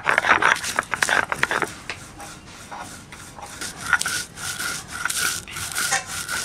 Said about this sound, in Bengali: ভাজা মশলাটা এখন আমি বেটে নেব